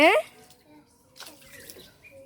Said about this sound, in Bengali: জল ছিটাচ্ছ?